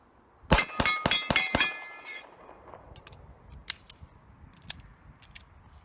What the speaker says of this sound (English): just did 5 rounds fast at 15, and hopefully you could hear they're all hits